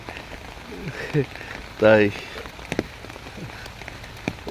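Light drizzling rain patters softly and steadily in the background, with someone speaking a few words and some brief nearby clatter over it.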